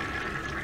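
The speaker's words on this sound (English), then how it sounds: "flush the toilet." A toilet flush in the Heavy Rain video game, heard as a brief, steady rush of water, fairly loud and close, with no voices.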